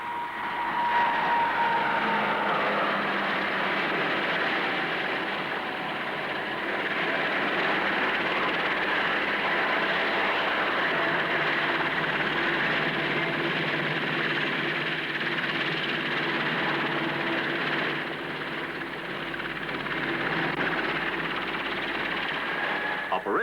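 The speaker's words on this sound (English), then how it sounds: "They're flown in by Hawker Siddeley Argosy freighters." Hawker Siddeley Argosy freighter aircraft fly in at an airshow, giving a steady broad propeller-engine drone that holds for the whole stretch at moderate distance, with narration over it.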